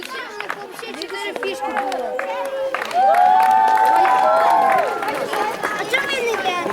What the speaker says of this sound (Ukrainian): Гучніші оплески болівальникам.